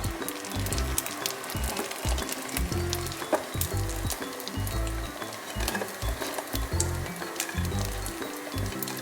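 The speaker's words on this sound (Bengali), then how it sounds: "উল্টিয়ে পাল্টিয়ে আমি ভালো করে লাল লাল করে ভেজে নিলাম" Sago pakoras frying in hot oil, a loud continuous sizzle with crackling bursts as the pieces are turned, heard close up without talking.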